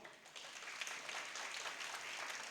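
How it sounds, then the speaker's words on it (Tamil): A studio audience claps at a Tamil television comedy show, a dense, steady patter of many hands sustained throughout at moderate volume. "நல்லா கைத்தட்டலாமே."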